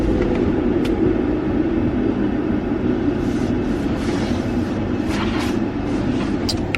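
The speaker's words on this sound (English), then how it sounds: "So they spray in my car." Inside a car going through an automatic car wash, a steady loud broadband rush of spraying water drums on the body over a low rumble, continuous and close throughout.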